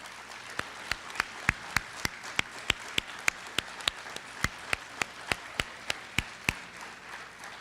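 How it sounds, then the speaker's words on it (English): Audience applause for new National Honor Society inductees at a high school ceremony, with one loud, close pair of hands striking in a steady, even rhythm over a softer bed of wider clapping from the room. "Please give a round of applause for these new inductees."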